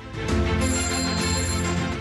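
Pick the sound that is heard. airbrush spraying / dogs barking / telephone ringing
telephone ringing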